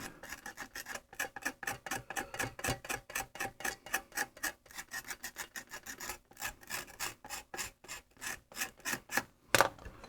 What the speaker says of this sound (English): I was looking for my little abrasive pin here. Just going to give that a very light drag along there.